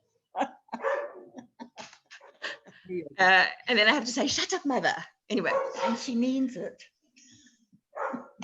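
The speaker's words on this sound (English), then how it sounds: "That's not mother, that's the dog." A dog barks in short bursts mixed in with continuous close talk from a woman, on a property where several dogs live, the barks partly masked by the voice.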